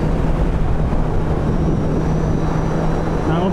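A 2016 Kawasaki Z800 motorcycle engine holds a high-revving, steady whine while riding through bends, continuous and fairly loud with wind rush and no talking over it.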